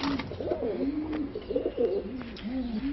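Pigeons in a loft cooing repeatedly in soft rolling phrases, close and steady, with faint flutters and rustles around them and no talking.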